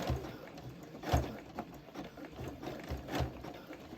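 Home sewing machine stitching a coiled rope trivet, a steady low mechanical whirr with soft periodic thumps as the rope bunches around a corner, close and moderately quiet.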